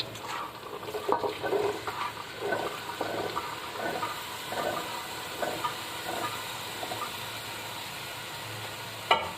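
Cooked chickpeas tumble into a hot pan for chana pulao, giving a steady sizzle and hiss with soft stirring scrapes throughout and a sharper clatter at the end.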